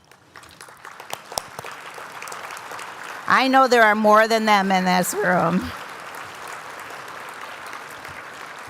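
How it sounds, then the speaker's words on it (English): A room of guests at a benefit breakfast applauds steadily, with scattered claps running throughout and a louder swell of clapping and voices in the middle before it tapers off, while a speaker talks over it. "let's give you a round of applause"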